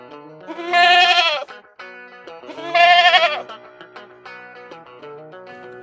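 A young goat kid bleats in two long, wavering cries, with shorter, softer calls in between. It is close and loud, with no other sound around it.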